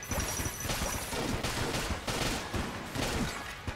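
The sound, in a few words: Void Shotgun and Luxon cannon firing in video game Enter the Gungeon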